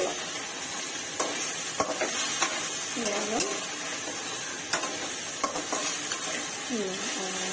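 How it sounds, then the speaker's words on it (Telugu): Sliced okra sizzles steadily as it fries in a pan at home, with scraping stirs and occasional sharp clinks of a spoon against the metal, close up; a voice briefly surfaces in the middle. "ఇదిగోండి ఫ్రై బెండకాయ ఫ్రై అయితే ఇదిగోండి"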